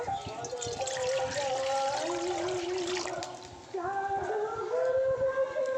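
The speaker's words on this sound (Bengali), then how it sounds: "কষ লাউয়ের আমি ভালো করে ধুয়ে নেবো মধ্যে জল দিয়ে দেব" Water pouring and trickling over a bottle gourd as it is washed, a continuous splashing flow that shifts in pitch partway through, close and moderately loud.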